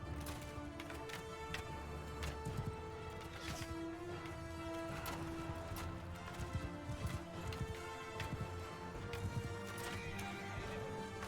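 Cavalry horses thunder past in a Bannerlord battle, with dense galloping hoofbeats rolling on continuously alongside occasional whinnies and a sustained battlefield din, loud and unbroken throughout.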